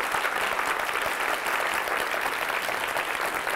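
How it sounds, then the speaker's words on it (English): Thick, continuous audience applause for a panel at a business career event, unbroken and evenly loud from start to finish. "give them another round of applause"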